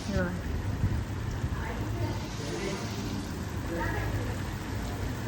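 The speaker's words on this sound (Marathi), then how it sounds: "हे बघा कसा वाढलाय पाऊस" Steady rain falls in a dense, even hiss with low rumbling underneath, and faint voices come through in the background.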